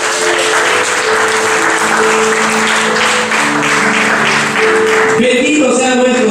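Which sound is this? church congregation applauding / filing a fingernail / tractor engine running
church congregation applauding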